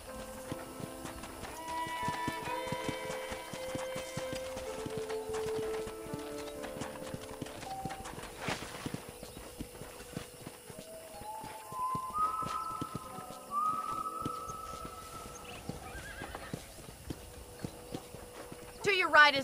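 Horse hooves in Red Dead Redemption, a steady clip-clop of riding under a whistled western melody, with voices talking intermittently.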